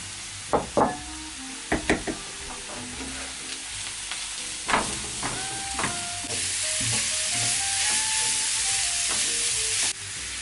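Onion and grated carrot fry in a pan with a steady, close sizzle, broken early by several sharp knocks and scrapes of stirring before the frying hiss settles in alone.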